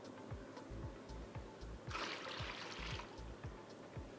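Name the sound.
water dispenser pouring sparkling water into a carafe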